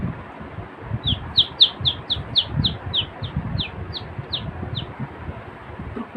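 A voice imitates a baby chick's chirping: about a dozen quick, high, evenly spaced peeps, close and clear, over a low rumbling background.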